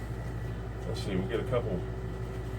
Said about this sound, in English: You guys please excuse the noise of the air conditioner.